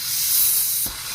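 A bottle of homemade pineapple soda bursts open with a steady loud fizzing hiss, then a short sharp pop of spray near the end before the sound drops to a quieter fizz.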